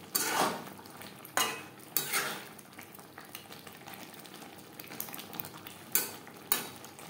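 Chicken and potato curry with tomato being stirred in a pan, a spoon scraping and knocking against the metal in several sharp strokes over a quiet sizzle.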